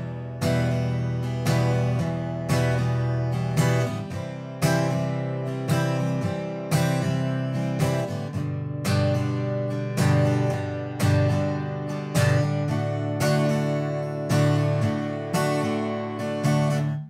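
Steady acoustic guitar strumming at a moderately brisk tempo, rhythmic chord strokes with accents on beats two and four, full and close with no voice.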